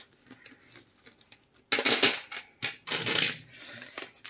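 Loose coins clinking and sliding as change is handled for counting: a few light taps, then two louder bursts of metallic jingling and rattling up close, with no voices.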